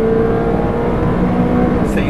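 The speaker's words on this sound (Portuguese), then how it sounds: "A tração integral permite a gente sentar a bota aqui na série de curvas" Mitsubishi Lancer Evo X with all-wheel drive pushing hard through a series of corners on a track, steady engine roar heard from on board, a voice talking over it.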